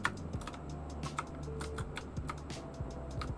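Fingers type rapidly on a computer keyboard during a game session, a dense run of close, crisp key clicks with irregular rhythm over a low background hum.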